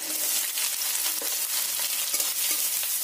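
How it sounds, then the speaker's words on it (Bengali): Chopped garlic and onion fry in hot mustard oil, giving a steady close-up sizzle with soft stirring scrapes throughout and no talking. "পেঁয়াজ রসুন ভালো করে ভেজে নিতে হবে"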